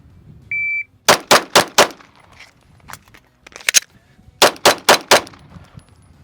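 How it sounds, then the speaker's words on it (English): Pistol shooting drill with a slide lock reload: a short beep, four quick loud close shots, clicks and rattles of the magazine change, then four more rapid shots. "fire 4 more rounds in 8 seconds. So I've got 1 in the chamber, 3 in the magazine, 4 rounds, slide lock reload from concealment"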